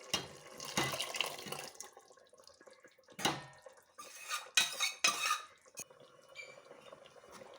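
Lentils get stirred into softened cooked vegetables in a metal pot, giving irregular scraping clanks and wet sloshing bursts of a spoon against the pot's sides, close up with quiet gaps between strokes and no voices.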